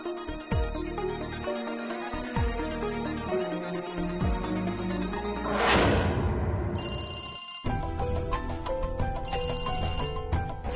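A telephone rings steadily and loudly in repeated trilling bursts, with a brief swell of music partway through and no talk over it.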